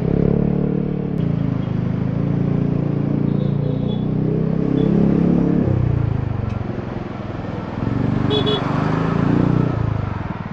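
Busy Manila road traffic, with car and motorcycle engines idling and revving in a steady, close, continuous rumble while people talk throughout.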